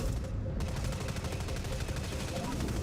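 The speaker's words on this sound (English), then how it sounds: "Getting shot. Someone's shooting me" Rapid bursts of automatic gunfire from the online shooter video game Dust 514 crackle continuously and loudly throughout.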